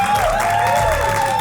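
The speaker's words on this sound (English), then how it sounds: "bring it a round of applause for everybody you saw tonight" A comedy-club audience claps steadily in a dense, continuous wash of applause that carries through the whole moment.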